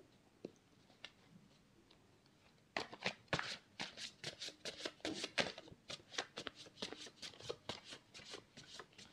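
Tarot cards are handled and shuffled in a steady run of crisp, close riffling taps and slides, sparse at first and then dense and continuous, with no voice over it.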